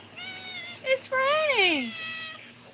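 A cat meows twice near the microphone on a rainy day, the second call long and falling in pitch; a person speaks briefly in between.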